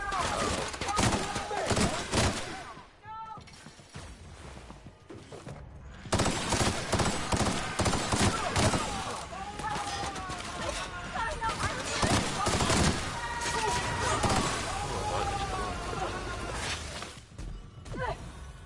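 Sustained bursts of video game gunfire in The Outer Worlds, rapid volleys and automatic fire crackling almost nonstop with brief lulls, loud and close, with voices talking over the shooting.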